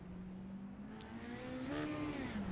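Race car engine droning on the track at Lernerville, a steady buzzing tone that rises in pitch as the car accelerates, heard continuously at moderate loudness.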